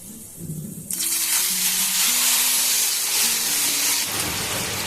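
Ground green chili paste hits hot oil in a frying pan for fish curry, setting off a sudden loud, sustained sizzle that stays strong for several seconds and then eases slightly.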